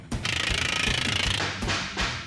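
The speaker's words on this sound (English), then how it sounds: "I want to hear that air hammer all day. And make sure it's loud." An air hammer runs in a motorcycle shop, hammering in a fast, steady pneumatic rattle that is loud and close. It cuts off briefly, then gives two more short, harsh bursts.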